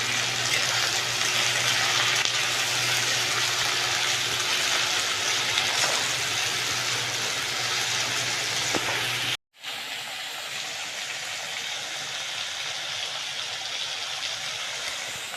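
Onions fry in a pan with a dense, steady sizzling hiss that runs continuously, dropping out only for a brief moment midway and then returning at similar strength.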